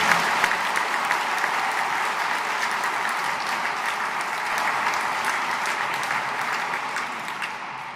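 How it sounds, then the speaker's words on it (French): A congregation at a Sunday homily applauds to welcome a Dominican chaplain to students in Liège, a broad, even wash of clapping that holds steady for several seconds and tapers slightly at the end. "On peut l'applaudir, l'accueillir."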